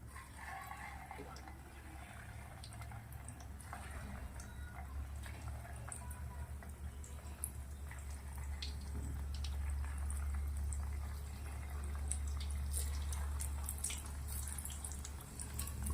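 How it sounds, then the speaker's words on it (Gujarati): Potato and chickpea balls bubble and hiss in hot oil as they deep-fry, a continuous, dense, even fizz that grows slightly louder in the second half with no talking. "મસ્ત ક્રિસ્પી થાય ત્યાર સુધી આપણે આને તળવાના છે"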